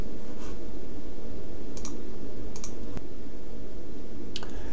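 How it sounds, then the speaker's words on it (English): Writing in a paper notebook, with a few sparse scratches and taps of the pen on the page against a quiet room hum and no talk. "I'm going to write this out in my notebook."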